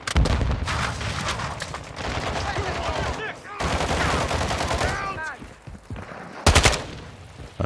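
Rapid automatic gunfire in the shooter game Warzone 2.0, with dense bursts of close machine-gun shots, pauses and a sharp final volley, heard amid game voices and team chatter.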